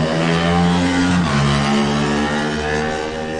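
A KMR Kawasaki lightweight racing motorcycle powers away at the Isle of Man TT. The engine roars loud and near, its pitch climbing steadily, then dropping briefly at a gear change before rising again.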